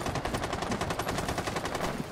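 Rapid automatic gunfire in the tactical shooter Rainbow Six Siege, a steady stream of loud, closely spaced shots running continuously throughout.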